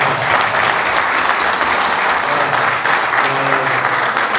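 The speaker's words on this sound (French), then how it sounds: "Un tonnerre d'applaudissements." Thunderous audience applause at an evening gathering with a dinner to follow, steady dense clapping that stays loud and continuous throughout with no voices on top.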